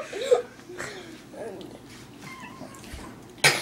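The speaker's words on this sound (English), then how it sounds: "At least he knows how to meow." A pet cat being handled lets out short, strained meows amid close voices talking and a sharp burst of noise at the end.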